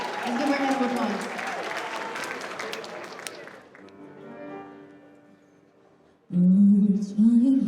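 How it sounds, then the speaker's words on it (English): A school assembly audience applauds a singer at a Black History assembly: broad clapping that gradually thins and fades over several seconds, then a brief lull before a louder voice-like sound breaks in near the end. "Let's give her a round of applause."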